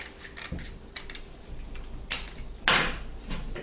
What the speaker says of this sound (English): I'm going to cut this part off here